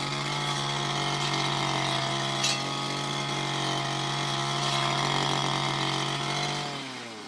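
A repaired grass cutter engine running steadily at high revs, a loud, constant buzzing drone close by that dies down in the last half second, with no talk.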